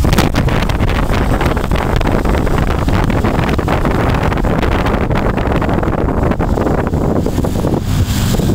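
Strong wind buffets through an open car window as the vehicle drives along, a loud, steady roaring rush that fills the whole clip with no voices over it.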